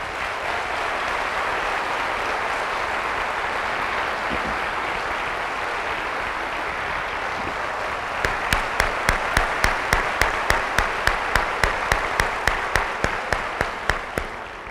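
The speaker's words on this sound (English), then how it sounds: "If we can give a round of applause to all of our board members." School board members receive a broad wash of audience applause at a staff convocation, and partway through a single nearby clapper adds sharp, regular claps over the crowd.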